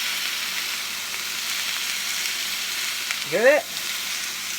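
Food simmering in a pan on high heat gives a steady broadband sizzle throughout, with a brief voice near the end.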